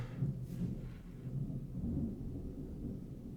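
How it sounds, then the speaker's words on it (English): Low rumbling thunder from an approaching storm rolls faintly and distantly, a soft sustained grumble with a slight swell partway through and no voices. "storm coming up"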